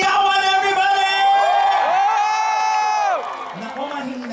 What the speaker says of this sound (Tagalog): Magpalakpakan na may kasamang hiyawan, everybody!